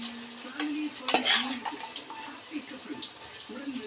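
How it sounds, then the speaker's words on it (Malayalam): Plantain slices frying in hot oil, a bright crackling sizzle with bubbling throughout, plus scraping stir sounds and short bits of a speaking voice. "വറുത്ത് കോരിട്ട് കാണാം."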